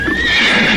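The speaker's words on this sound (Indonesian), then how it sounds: "Tiba-tiba kuda Jaka Badak meringkik seperti mencium ada bahaya" A horse neighs loudly and close by, a single drawn-out whinny that falls in pitch, with faint hoof clops beneath and no talk.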